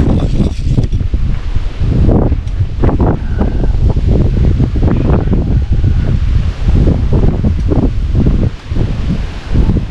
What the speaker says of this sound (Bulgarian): Много е ветровито.